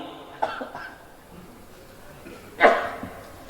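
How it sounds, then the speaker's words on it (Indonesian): A couple of short, dry coughs from someone nearby, one faint and one louder a couple of seconds later, with quiet room noise between. "mulai cedek, mulai agak batuk lagi nih"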